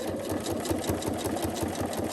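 A sewing machine stitches a quilt block with a fast, even mechanical chatter. The whirring motor runs steadily and alone for the whole stretch.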